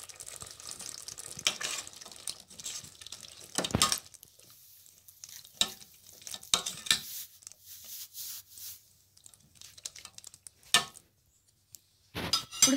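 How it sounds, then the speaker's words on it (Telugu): Red kidney beans being stirred into rajma curry in a pan, with intermittent scraping, wet clinks and soft bubbling in short bursts and quiet gaps between them. "సో ఒకసారి మళ్ళీ దీన్ని కలుపుకుందాం."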